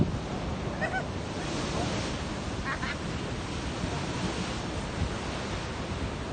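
Ocean waves surge and wash against the Boston shoreline after a storm, a steady broad roar of surf mixed with wind buffeting, with faint indistinct sounds briefly in the background.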